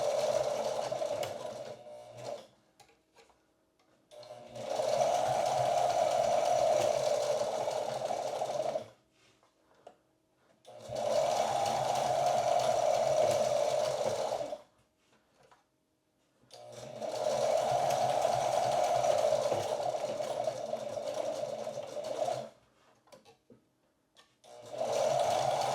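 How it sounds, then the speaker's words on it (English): A sewing machine runs in four separate bursts of a few seconds each while stitching a two-point sling, with short quiet pauses between runs and faint handling noises in the gaps. "And I'm going to run it a couple of times just so there's a bunch of stitches."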